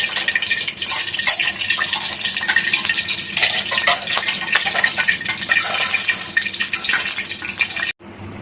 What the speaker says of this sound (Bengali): ওদিকে তেলটা গরম হচ্ছে, তেলের মধ্যে মনে হয় জল পড়েছে।